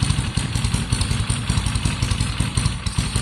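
A Triumph Bonneville T120 motorcycle with an electronic ignition upgrade idles close by, its engine throbbing in a loud, steady, slightly uneven pulse with a mechanical clatter and no voices.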